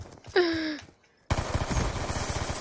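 A brief tonal whoop is followed by a short pause, then automatic gunfire from Call of Duty Black Ops 2 erupts in rapid continuous bursts that carry on to the end.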